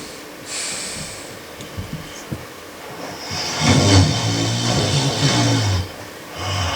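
A voice imitating snoring, with a few snorting breaths followed by a longer, loud, rumbling mock snore close to the microphone.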